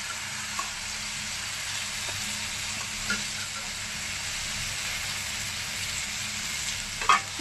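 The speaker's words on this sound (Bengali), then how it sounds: "আলুটা দিয়ে ভালো করে কষিয়ে নিয়েছি" Potatoes fry in oily spice masala in a pan, giving a steady, even sizzle. A few soft scrapes and clicks of a spoon break through, with a sharper stir near the end.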